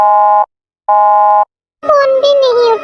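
A phone's ringback tone purrs twice in steady, even bursts with pauses between, then a voice starts speaking.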